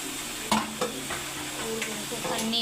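Potato chips deep fry in hot oil with a constant bubbling sizzle, broken by a couple of sharp clinks from a utensil stirring the pan.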